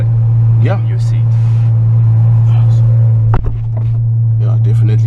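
Heard from the cabin, the Ferrari 812 Superfast's engine runs in its warm-up phase as a loud, constant low drone, while people talk over it and a short thump sounds partway through.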